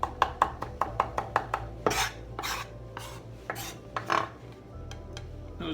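Black olives being chopped with a knife for tapenade, a quick run of about ten crisp taps on a board followed by slower scraping and rubbing strokes, close and clear.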